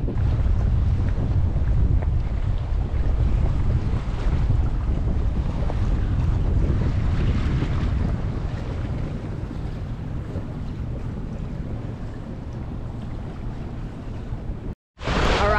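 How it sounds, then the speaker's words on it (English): Strong wind buffets the microphone aboard an aluminum monohull sailboat under way off La Paz, Mexico, a loud, steady roar with low rumble and faint water wash throughout, cutting out briefly near the end. "there is wind right now"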